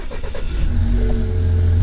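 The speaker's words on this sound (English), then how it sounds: "And let's go ahead and turn it on." A BMW F31 328 xDrive wagon with high mileage starting up: a brief cranking stutter, then the engine catches and settles into a steady, close idle hum.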